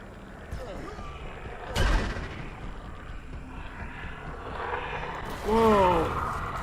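Rocket launcher fire in the Empyrion space survival game: a sharp blast near two seconds with a rumbling tail, then a louder burst with a rising whine near the end, all over steady background game noise.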